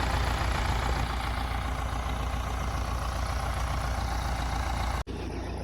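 A tractor engine runs steadily at idle, a continuous low mechanical rumble that stays level throughout before a brief abrupt dip near the end, with no talk over it.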